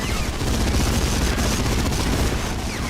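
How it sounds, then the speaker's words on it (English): An MG42 machine gun fires in a PlayStation 2 war game, dense, continuous rapid bursts mixed with other gunfire and booms, loud and unbroken throughout. "MG42 machine gun"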